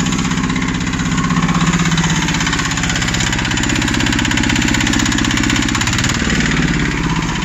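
A patpat motor cart engine runs close and loud, a steady, rapid thumping chug with slight rises in revs and no voices over it.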